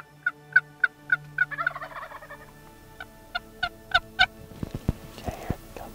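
Wild turkey toms gobble back at a hunter's call: a run of sharp, rattling gobbles, several close together, then a short pause and more overlapping gobbles from multiple birds, loud and fairly near, ending with rustling movement.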